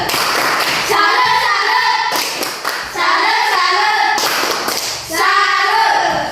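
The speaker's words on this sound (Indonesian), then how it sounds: "Ya, kasih dulu aplaus." Classroom applause from students in a lesson, dense clapping in three bursts separated by short pauses, loud and close, with thumps and taps mixed in.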